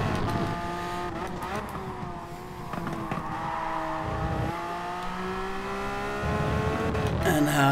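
A race car in GT Sport under hard throttle, its engine note climbing steadily through the gears with brief shift dips, loud and close, with faint tire noise underneath.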